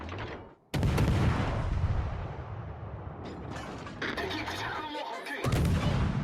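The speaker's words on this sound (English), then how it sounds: "we're going to start firing on the Minnesota" Warship gunfire in the naval combat game World of Warships: Legends: booming, rumbling salvos and mechanical clanks fill the scene, loud and dense, with layered blasts continuing over several seconds.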